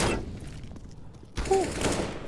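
Glock pistol fire in Counter-Strike on Dust2: a burst of sharp shots at the start, a quiet gap, then another quick volley of close gunshots.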